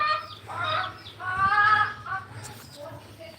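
Several ducks quack and call in short harsh bursts, fairly close, with faint speech underneath.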